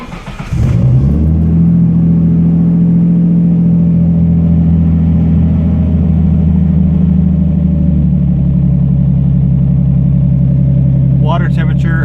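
A Datsun 240Z with a swapped Nissan RB25DET turbo inline-six starts from cold. It cranks briefly, catches and settles into a loud, steady, throaty idle up close. The idle eases slightly in pitch near the end as some brief chatter comes in.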